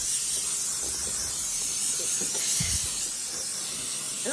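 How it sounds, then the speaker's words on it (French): Oil sprayed from a spray bottle onto air fryer baskets, a steady close hiss running the whole time, with faint clicks and clatter underneath. "ajouter un peu d'huile, asperger les paniers d'huile"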